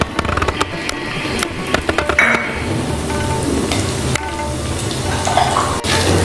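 Urad dal frying in hot mustard oil while being stirred, a steady sizzle with scraping spoon clicks and knocks against the pan, close and fairly loud with no voices.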